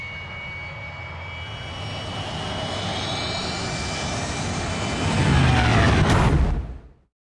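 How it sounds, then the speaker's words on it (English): A plane's engine drones steadily in an audio drama scene just before a crash, building in pitch and loudness into a roaring surge, then cutting off abruptly. "So here's the engine for right before the crash."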